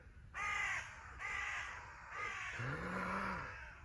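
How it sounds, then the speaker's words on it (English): Crows caw in a series of four or five harsh, ragged calls at moderate distance, each loud and clear with short gaps between, and no other sounds around them. "amidst glorious crow song, the most wonderful crow song"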